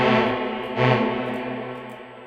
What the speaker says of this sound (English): let me add some reverb on here so you can kind of hear a little bit better